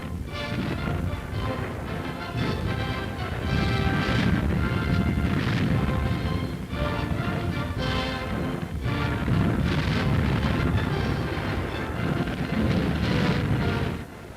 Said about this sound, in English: Fogo da artilharia inimiga.